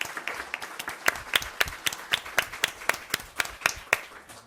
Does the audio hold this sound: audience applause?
yes